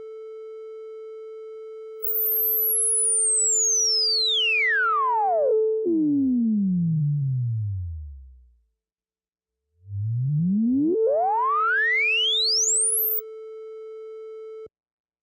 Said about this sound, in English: Let's turn up the filter emphasis all the way on the Model D so we can actually hear the cutoff frequency being swept